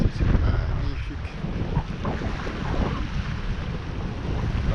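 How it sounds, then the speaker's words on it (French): Steady east wind buffets the microphone aboard a sailboat at anchor off a beach, a loud rushing roar with water sounds underneath, continuous throughout. "aujourd'hui, on a du vent d'est"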